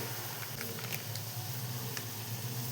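Two spoonfuls of water sizzling in a hot kadhai before making kulfi, a faint, steady hiss with small crackling pops and no talk.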